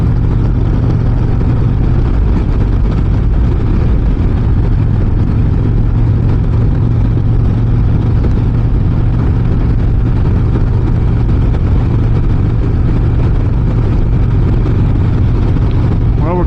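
A 2025 Harley-Davidson Street Glide Ultra rumbles steadily while being ridden, its loud continuous engine drone mixed with heavy wind noise throughout.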